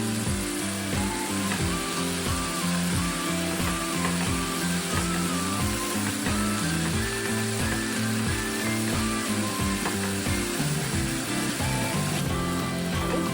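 Mint and coriander leaves frying in a pan for tomato bath, a dense, steady sizzle with faint rhythmic stirring scrapes running throughout.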